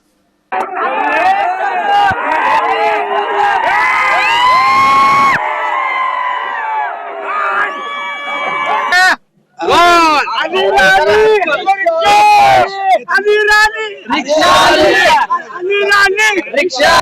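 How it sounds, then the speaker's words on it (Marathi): Supporters outside a municipal election counting centre cheer and whoop after the result, a loud dense crowd of shouting voices and chants with brief pauses, close and lively. "भालके गटाच्या कार्यकर्त्यांनी मतमोजणी केंद्राबाहेर येऊन फटाक्यांची आतषबाजी आणि गुलालाची उधळण करत जल्लोष केला"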